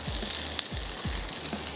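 Tomatoes and onions sizzle in a hot pan while Balochi rosh cooks. The frying crackles steadily and fairly close, with a few low thumps as the ingredients settle or are stirred.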